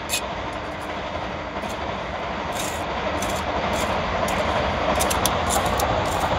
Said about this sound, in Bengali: নতুন একটা ট্রেন যাচ্ছে, আওয়াজ তো শুনতেই পাচ্ছি।